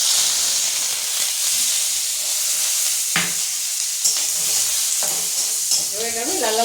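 Soaked lentil dumplings (bori) fry in hot oil in a pan, a steady hiss and crackle with sharp spatters and a few stirring knocks of a utensil; a faint voice surfaces briefly near the end.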